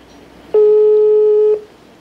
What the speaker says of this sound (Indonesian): Kang Iwan akan saya telepon ya Kang Iwannya supaya makin paham lagi